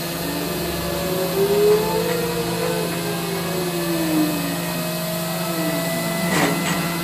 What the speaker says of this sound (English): I have already decided that this high-speed spindle's not staying on this machine.